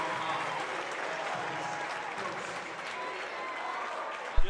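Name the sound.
crowd cheering and applauding at a basketball game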